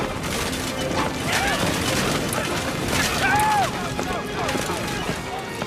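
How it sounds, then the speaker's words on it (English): Inside a plane whose left propeller snaps off and shreds the engine, a violent explosion sounds as a loud pop-like blast within dense, steady cabin and engine roar, with brief whistling tones. "Watch again through the doorway as a violent explosion rocks the plane."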